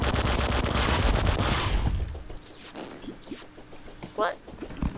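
A Tesla turret firing at the player in Terraria, rapid crackling shots in a dense burst at first, then sparser zaps and hits as people talk over it.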